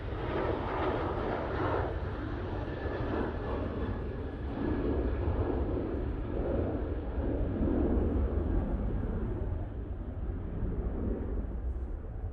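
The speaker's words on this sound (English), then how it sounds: "EasyJet, about to touch down." An EasyJet airliner comes in to land at Manchester Airport, its engines making a steady, distant roar that swells gently with wind rumble across the microphone, with no voices.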